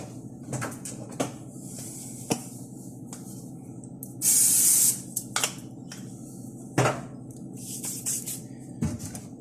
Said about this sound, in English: I need to spray my pan.